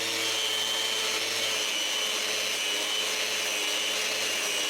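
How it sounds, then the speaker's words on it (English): Wooden stool top being resanded with a power sander, a steady loud whirring drone with even hiss that runs continuously throughout, close up and without talking. "I need to resand the top"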